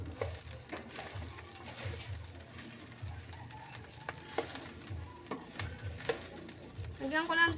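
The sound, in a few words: onion and garlic sizzling in a frying pan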